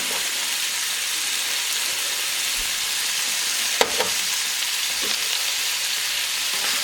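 Beef pieces browning in a pan, giving a steady broadband sizzle throughout with a couple of faint clicks from the pan or utensil.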